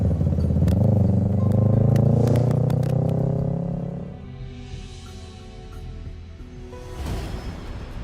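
A motorcycle engine drones loudly nearby, then fades as the bike pulls away, leaving faint street ambience with a brief swell near the end.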